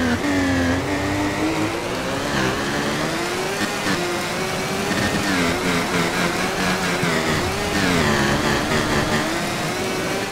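A Honda racing motorcycle engine in Valentino Rossi: The Game, revving high and steady with rising and falling pitch as gears change, loud and continuous with no talk.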